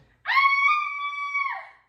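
A woman in a radio play lets out a single sustained, piercing scream lasting over a second, loud and clear against silence.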